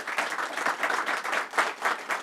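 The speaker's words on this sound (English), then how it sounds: "Let's give them a round of applause" Audience applause at a Brooklyn hospital partnership announcement, a short burst of dense, lively clapping from a room of people, fairly close and steady.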